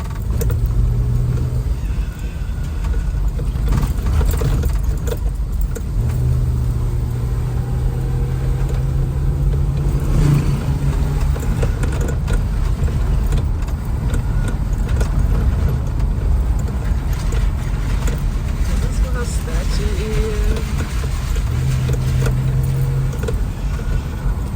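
Car driving over a bumpy road through Jamaica's Blue Mountains, a steady engine and road rumble heard from inside with faint rattles and jolts, continuous and close.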